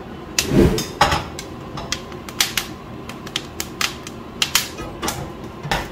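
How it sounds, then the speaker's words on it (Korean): Coffee beans roasting at home in a hot covered pan crackle with sharp irregular pops, about a dozen distinct cracks spread unevenly over a low steady hiss. "이제 곧 파핑이 올 겁니다."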